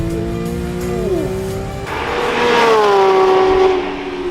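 Porsche GT3 RS sports car on a Formula One race track, its engine note rising and falling with gear changes as it passes, loud and fairly near with a steady roar building toward the end.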